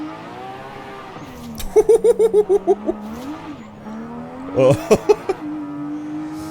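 Drift car engine in Forza Horizon 5 played on a wheel, a steady drone that rises into revving bursts and tire squeal, with a brief exclamation over it.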